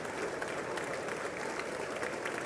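A crowd of lawmakers in the US Congress chamber applauds during a joint session address, dense steady clapping from a large room, fairly faint and continuous.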